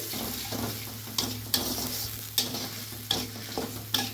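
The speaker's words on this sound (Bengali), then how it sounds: "সুন্দরভাবে মশলাটা কষতে থাকুক" Spiced masala paste with turmeric and Kashmiri chilli sizzles steadily in a pan while a spoon scrapes and stirs it, giving several sharp clinks over a constant frying hiss.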